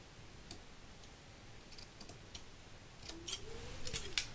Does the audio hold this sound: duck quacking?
no